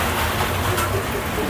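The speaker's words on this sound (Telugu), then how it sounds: "ఈ వర్షం ఏమో అసలు" Rain pours outside a hotel as a steady, dense wash of hiss that fills the short stretch with no break and no voices.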